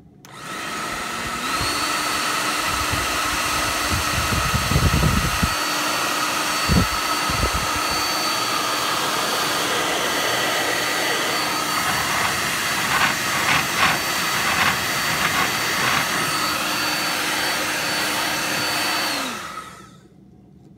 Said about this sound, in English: Let's make sure that it's high heat,